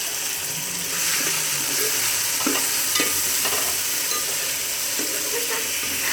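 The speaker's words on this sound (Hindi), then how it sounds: "मसाले को इसी तरह मिक्स कर लें। अच्छी तरह भुनाई कर लें।" Spices roasting in a pan for chole pulao, crushed red chilli among them, under a loud, continuous sizzle, with intermittent scraping and clinking from a spoon stirring close by.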